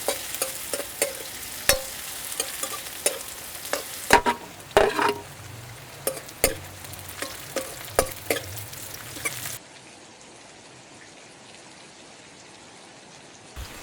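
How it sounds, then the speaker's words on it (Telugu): Chopped onions frying in oil in a pan for chicken fry piece biryani: a close, steady sizzle broken by repeated scraping stirs. The sound stops abruptly near the end, leaving near silence. "వెంటనే ఉల్లిపాయలు కూడా వేసుకుని గోల్డెన్ కలర్ వచ్చే వరకు వేయించుకుందాం"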